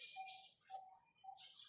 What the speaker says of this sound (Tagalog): May mga sounds ng mga ibon.